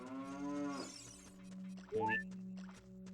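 A cow moos in a Zelda video game, one long drawn-out low call followed by a shorter rising call, standing out over a steady background music drone.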